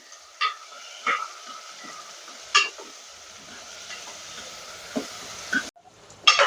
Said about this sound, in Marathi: आणि तुरीची डाळही घालून घ्यायची आणि जरा परतून घ्यायचे.